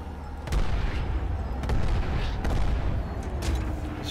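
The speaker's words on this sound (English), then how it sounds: "Shooting random people." Bursts of gunfire from the online shooter game Planetside 2, heavy booming shots at irregular intervals over a constant rumbling game backdrop, loud and close, with no talking.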